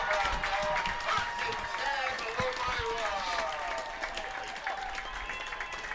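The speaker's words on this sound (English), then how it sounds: "Here comes the crowd." Crowd at a high school football playoff game cheering and clapping as the players head onto the field, a steady wash of applause and shouts, with an announcer talking over it.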